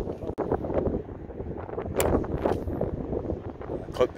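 Strong wind gusts across a golf course, a continuous blustery roar against the microphone with a sharper gust near the middle, while people talk over it.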